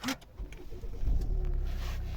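A 2016 Volvo V60 2.0 diesel engine cranks and catches, settling into a low steady idle nearby after a few brief clicks and rustles.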